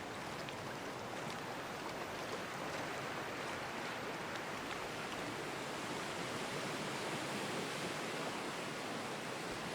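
Steady broadband splashing and churning of water as a character wades through the shallows in Dear Esther, a continuous even wash with no voices.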